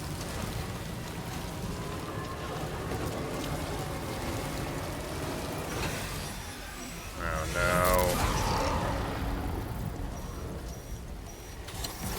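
Steady rain in the video game Death Stranding 2, a constant close hiss of falling drops with a brief louder swell partway through and someone talking over it.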